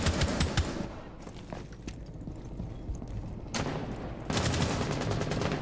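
Rapid gunfire bursts from a Rainbow Six Siege collegiate esports match, with broadband cracks clustering at the start, again mid-clip and toward the end over a steady dense background of game noise.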